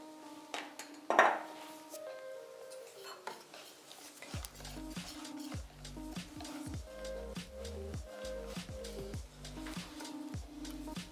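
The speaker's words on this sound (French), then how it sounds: "Et tu vas pouvoir mélanger doucement." A spoon scrapes and clinks around a bowl in a steady stirring rhythm, mixing thick chocolate cake batter, with a brief louder clatter near the start.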